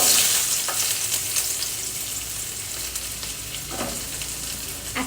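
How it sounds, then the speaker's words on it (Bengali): Bits of egg popping and crackling in hot frying oil, a steady close sizzle with scattered sharp pops throughout, no voices. "অল্প অল্প ডিমের কুচো ছিল তেলের মধ্যে, তো ওটাই ফাটছে"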